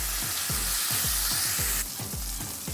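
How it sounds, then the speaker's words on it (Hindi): Laddu peethi mixture fries in hot oil with a loud, continuous sizzle and crackle. Soft rhythmic bubbling pulses run beneath it, and the sizzle eases slightly toward the end. "अब थोड़ा सा मिक्सचर लेके हम इस ऑयल में ऐड कर देंगे।"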